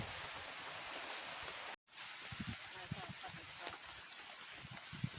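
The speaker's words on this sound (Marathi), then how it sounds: "पाऊस जोरात आलाय तर जरा वेळ आपण इथं थांबणार आहे" Steady broadband hiss of heavy rain under a teak tree in the forest throughout, briefly cutting out for a moment, with scattered low thumps and faint voices underneath.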